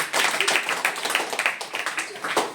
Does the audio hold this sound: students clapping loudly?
yes